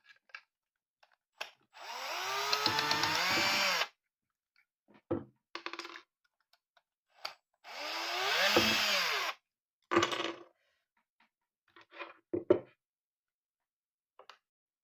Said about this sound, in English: Then you have to unscrew the 2 bolts that hold the motor to the motor mount.